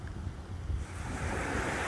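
Ocean waves washing onto a seaside shore, a continuous broad rushing surf with wind noise, steady and fairly loud with a slight swell toward the end, no speech.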